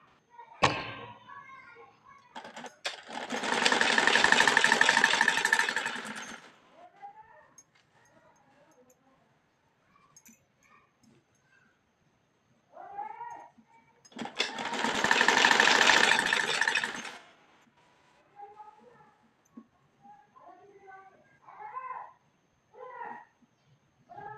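A sewing machine stitches a sleeve onto a kurti in two loud, steady runs of a few seconds each, close by, separated by a voice speaking between them.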